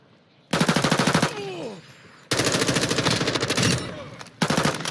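Automatic gunfire in Call of Duty: Modern Warfare II, loud close bursts of rapid rattling shots in three stretches separated by brief pauses, with quieter game ambience and a whistling sweep between bursts.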